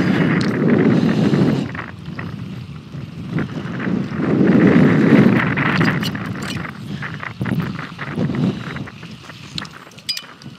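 Strong gusty wind buffets the microphone in loud, rumbling surges that rise and fall throughout, with no other clear sounds.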